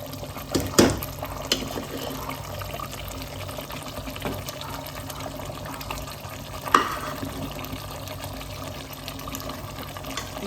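Cooked cassava is tipped into a pan of masala for a chicken cassava dish, with a soft wet plop and a few brief scrapes under a low, steady simmering hiss, close but fairly quiet.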